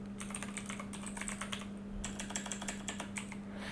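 Steady typing on a computer keyboard while entering search text in Adobe Acrobat, a quick run of close, light key clicks over a constant low hum, pausing briefly near the middle.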